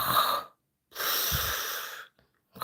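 A person pretending to be sound asleep imitates snoring, giving two long, raspy, wheezing breaths separated by short silences, close and fairly loud, with no other talk.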